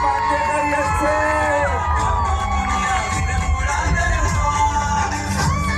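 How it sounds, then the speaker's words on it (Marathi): A lively crowd of women at a Lokmat Sakhi Manch event in Hadapsar whoops and cheers with shouts to welcome the host Aadesh Bandekar, a steady roar of loud cheering and yelling throughout. "जोरदार टाळ्या मी स्वागत करूया महाराष्ट्राचे आपले सगळ्याचे लाडके भाऊजी आदेश"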